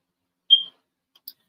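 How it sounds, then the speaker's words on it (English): A household smoke alarm gives a single short, high-pitched chirp in a quiet room, followed by a faint tiny click shortly after. "I know y'all hear my smoke alarm chirping"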